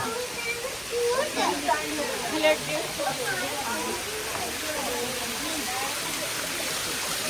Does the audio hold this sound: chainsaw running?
no